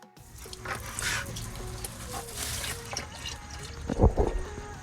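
Transmission fluid drains from the drain plug of a classic truck's transmission pan, a continuous trickling, splattering stream into a catch pan with a few louder splashes near the end, close by and with no talk.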